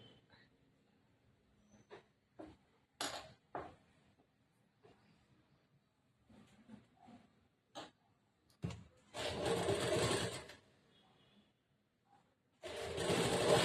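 A sewing machine stitches lining fabric onto a blouse, with two short, loud whirring runs of stitching near the end. Before them come quiet handling clicks and fabric rustle.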